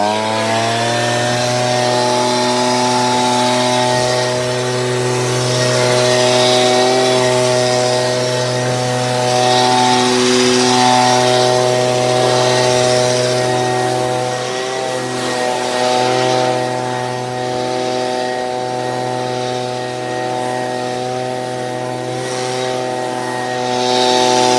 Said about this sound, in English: I press on the trigger and it bogs and it stalls out.